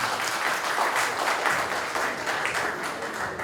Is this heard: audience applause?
yes